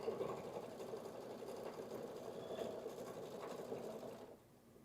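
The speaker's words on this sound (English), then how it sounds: "See, the machine decides what order it wants to sew things." An embroidery sewing machine stitching a pouch design, a faint, steady mechanical whir and rapid needle clatter that cuts off near the end.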